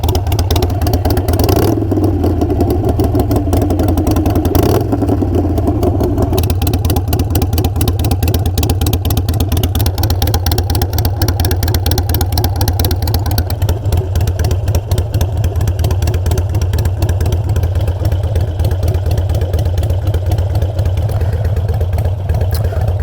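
A Harley-Davidson Iron 883 motorcycle fitted with Kinetic 540 lateral exhaust pipes idles loudly and up close with a throaty, pulsing lope, broken by a few sharp revs early on before settling into a steady idle.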